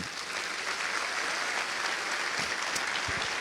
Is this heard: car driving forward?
no